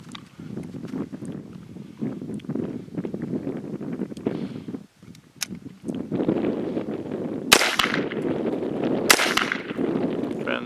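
Rifle gunfire at a range day training drill, with several sharp, close reports standing out over a busy background of clatter and movement, two of the shots especially loud and bright.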